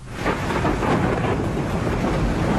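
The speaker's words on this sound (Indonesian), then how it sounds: "hujan pun turun dengan deras" Heavy rain pouring down with a deep rumbling roar like thunder, a dense, loud, continuous wash of sound that stays steady throughout with no voices.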